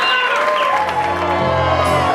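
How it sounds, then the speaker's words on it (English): Wedding guests clap and cheer together, with whoops and shouts over music that holds steady tones, all fairly loud and close. "How about a nice big round of applause out here once again"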